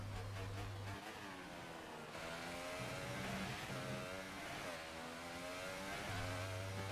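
A Formula 1 car engine in F1 2018 at the Australian Grand Prix, a steady loud mechanical drone with shifting harmonic pitch, rising and falling through gear changes on a final lap, with no talk.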